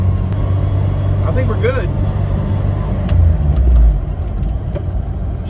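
A Suzuki Samurai engine idles steadily with its freshly installed transmission, a close, continuous low rumble that swells briefly near the end while someone talks over it.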